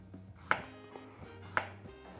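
A kitchen knife cuts through an onion on a board in a few sharp, separate chops spaced about a second apart, close and fairly quiet, with no talking.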